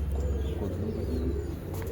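A pair of Teddy pigeons coo softly and low in a continuous murmuring drone, close by, with faint background noise.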